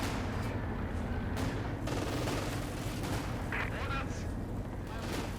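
Gunfire from the video game Company of Heroes 2, with tank cannon and machine-gun bursts from a Panther. The dense rattling battle noise runs steadily through the clip, with voices talking over it.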